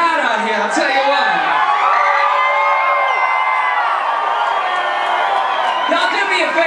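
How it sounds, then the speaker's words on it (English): Excited crowd at a concert cheering and whooping continuously, loud and dense with many overlapping shouts. "such a excited crowd out here"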